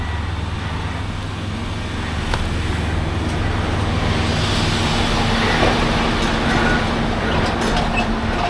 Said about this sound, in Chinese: 后面又有车子来了